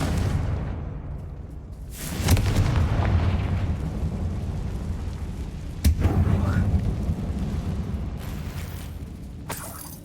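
Confringo spell blasts in Hogwarts Legacy, cast inside a closed mine that looks like a tomb. Two deep booming explosions go off, the second a sharp crack, each followed by a long rumbling tail over low ambient game sound.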